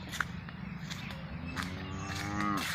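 A cow grazing in a farm field lets out a single long, drawn-out moo that rises toward the end. It is moderately distant and sounds over faint rustling and footstep-like noises.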